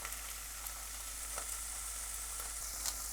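Sweet corn kernels frying in about two tablespoons of olive oil in a pan, giving a steady, quiet sizzle with a few faint stirring clicks throughout.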